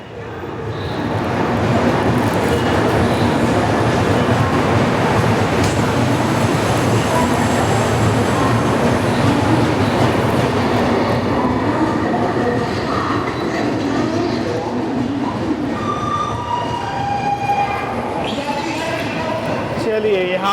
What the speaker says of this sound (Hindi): यहाँ पे हमारी ट्रेन ने ओवरटेक कर लिया है तिरुनेलवेली जामनगर एक्सप्रेस को